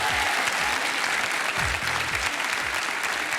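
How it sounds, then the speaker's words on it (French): Studio audience on a French TV game show breaks into sustained applause, a dense, steady wash of clapping that fills the whole moment without any voices over it. "Applaudissements."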